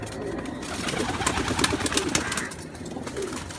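Baby pigeons, pure and crossbred birds kept for sale, coo softly close by in short repeated rolling calls, with faint rustling and a brief murmur of background talk.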